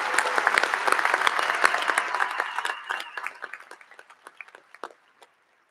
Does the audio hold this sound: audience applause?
yes